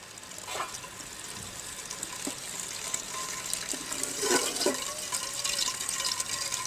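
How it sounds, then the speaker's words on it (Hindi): Cooking oil is poured into a pot for junglee pulao, a close, steady liquid stream with a faint sizzle and a few light clinks, no talk. "कश्मीर कुकिंग ऑयल डालेंगे।"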